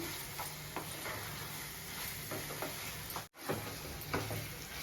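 Bread slices frying in a pan over a medium flame for double ka meetha, a steady low sizzle with faint stirring clicks close by, no voices.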